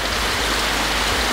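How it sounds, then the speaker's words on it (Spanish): Heavy rain pours down steadily as a dense, loud, unbroken hiss with no other sounds over it. "Está fuerte la lluvia, amigo, oigan."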